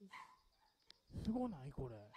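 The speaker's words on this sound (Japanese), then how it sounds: "で、犬が鳴いとんの、犬が鳴いとんの、" A dog barks from a video being played back: a couple of yips, then a longer bark that rises and falls. A person speaks over it in an excited voice.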